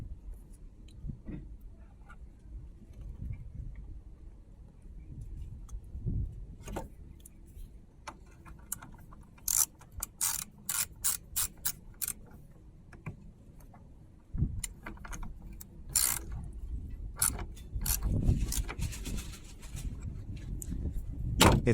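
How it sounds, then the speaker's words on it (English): A ratchet loosens the bolt on the negative terminal of a car battery, producing bursts of quick, close clicking strokes separated by pauses and faint handling noises, with no voices. "Now, loosen a bolt on the negative pole."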